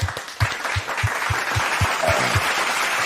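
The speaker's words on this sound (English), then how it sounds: "Clap it up, baby." Several people clap in a steady, rhythmic beat, roughly evenly spaced hits over a light background wash of applause.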